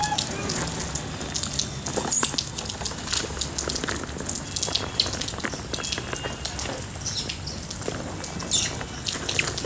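Outdoors, a steady even hiss of falling water or rain continues throughout with no clear drops standing out, and faint bird calls can be heard in the background.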